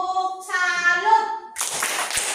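Children in a classroom do the tepuk salut clapping routine: a sung, chant-like voiced phrase comes first, then a loud burst of group clapping closes the routine.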